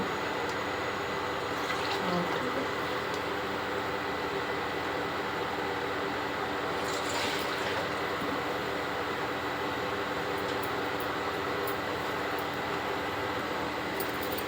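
Steady hiss of water being poured continuously from a tumbler into a biryani pot, a constant rushing stream with no talk.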